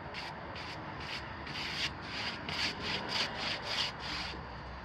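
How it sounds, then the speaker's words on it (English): Brush strokes of leftover paint going onto a wooden bench, a quiet rhythmic rubbing of about a dozen back-and-forth swipes, close and faint with no talk. "I'm just gonna paint this bench with the leftover paint that I have."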